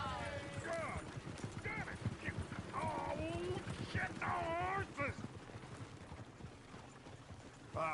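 Horse hooves clip-clopping in the Red Dead Redemption video game, a steady rapid trotting rhythm running throughout beneath several voices of people talking.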